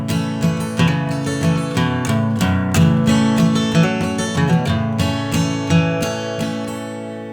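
Acoustic guitar playing the intro of a song with a pick, bright strummed chords mixed with picked treble notes in a steady folk rhythm, close and full, no voices.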